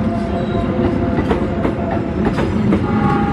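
Train rolling on rails at Manggarai station with steady clickety-clack of wheels over joints, loud and continuous rumble throughout.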